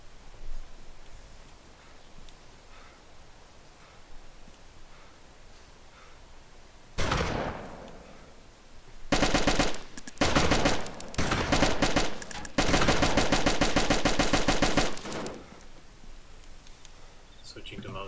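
Gunfire erupts in a shootout at a helicopter crash in a video game, first a single sharp shot, then loud sustained bursts of rapid automatic fire, with voices talking faintly in the quieter stretches.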